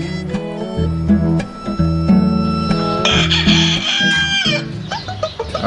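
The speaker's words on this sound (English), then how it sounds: "I hear chickens in the morning and roosters crowing" Chickens cluck steadily while a rooster crows loudly and nearby at a rural brewery in Newton County, Texas. The calls overlap densely and continuously with no voices.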